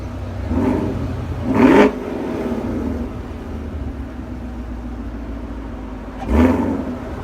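A 2016 Chevrolet Camaro SS with a manual gearbox idles with a steady low rumble, then takes two short, loud throttle blips a few seconds apart, staying under about 3,500 RPM.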